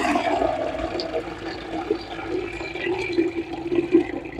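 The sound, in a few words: water pouring over millet pap grains in sieve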